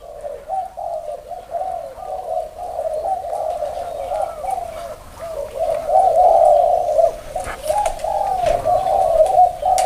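Pigeons or doves coo in a repeated rolling, throaty pattern that continues steadily and close by, with faint background clicks and no talk.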